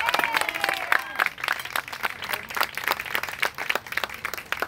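Crowd applause at a Poor People's Campaign rally, a loose wash of clapping with sharp individual claps standing out, and a voice heard briefly over it at the beginning.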